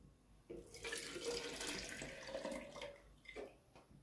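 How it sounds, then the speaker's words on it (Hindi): Cold milk pours into a blender jar for a banana milkshake, a steady liquid gush with bubbling that runs for about three seconds, then tapers off near the end. "अब मैं इसके अंदर डाल दूंगी दूध"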